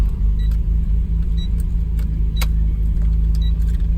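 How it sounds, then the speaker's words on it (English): Car engine idling at a garage, a steady low rumble with a constant hum, punctuated by a few faint light clicks and ticks, no one speaking. "car will be automatically turned off in just a couple more seconds"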